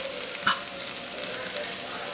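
Hash brown mixed in a pan on a stove set very low, a soft continuous sizzle with faint scraping of the utensil, close up and without talk.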